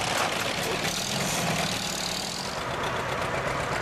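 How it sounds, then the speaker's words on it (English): A tractor engine idles with a continuous low rumble and steady chugging, masked by broad noise throughout. "We're surrounded by tractors."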